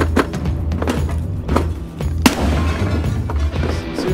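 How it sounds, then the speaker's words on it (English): Gunfire in Escape from Tarkov: several muffled distant shots and booms scattered irregularly, one sharper close crack in the middle, over a steady low rumble. "Seriously though, where were the gunshots?"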